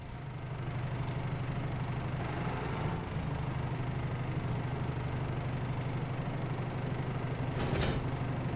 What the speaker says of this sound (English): We have a case tractor here with some bales.